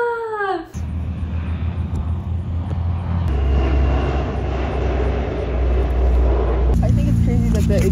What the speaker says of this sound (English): Got to see the super gummy takeoff.